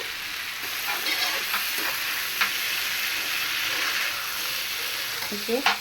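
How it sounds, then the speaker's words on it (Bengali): Cauliflower with tomatoes and spices sautéing in a pan, a continuous hissing sizzle with intermittent scraping and knocking strokes of a stirring spoon. "ফুলকপিগুলো ভালো মতো কষাই নিচ্ছি"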